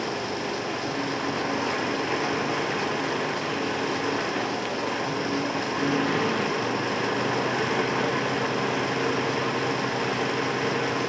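A loaded 125 horsepower 6x4 Foden dumper truck at colliery trials, its engine a steady, dense mechanical roar that holds level throughout, with a slight lift in intensity midway.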